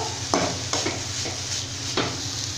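A spoon stirs cabbage poriyal with grated coconut in a pan, sounding as a steady low sizzle broken by four scraping strokes spread unevenly across the stretch.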